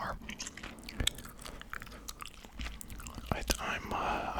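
Close-miked gum chewing in a quiet room, with soft wet mouth clicks and smacks that come in irregular bursts.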